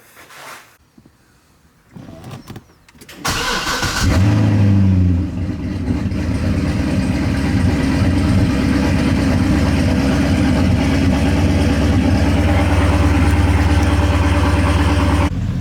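A 2013 Viper engine starts and settles into a loud, deep, steady idle with a throaty low rumble, close by in a garage, after some brief rustling and clunks.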